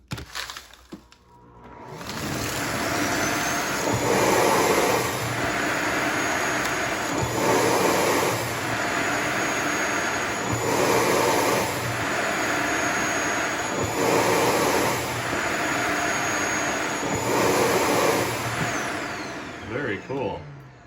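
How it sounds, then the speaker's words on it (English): A Samsung Jet 90 clean base empties the stick vacuum's dust tank with a loud, steady roaring suction and a whistling whine, pulsing in alternating sucking and blowing cycles before shutting off. "that alternating sound you heard was it sucking, and then it would take a second and it would blow air up into the tank"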